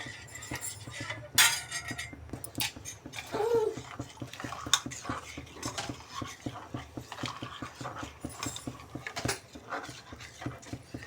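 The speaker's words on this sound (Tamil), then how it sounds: "இந்த மாதிரி ஸ்லோ ஃப்ளேம்லேயே வச்சு நல்லா கைவிடாமல் கிண்டிகிட்டு இருக்கணும்" Ragi porridge for a one-year-old cooks in a pot on a slow flame while being stirred continuously: a steady, rhythmic scraping pulse of the spoon against the pot, with occasional light clinks, close and fairly quiet.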